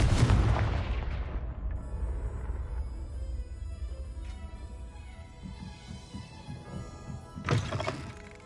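A fiery Confringo blasting spell in Hogwarts Legacy, a loud booming blast that decays into a long ringing tail, followed by a second sharp impact near the end.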